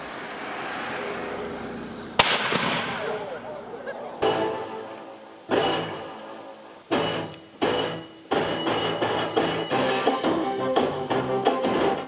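Explosions at a reenactment of the Battle of Poltava on its 306th anniversary: a series of sharp blasts, one loud bang followed by several more at irregular intervals, each ringing out and decaying, with some talk underneath.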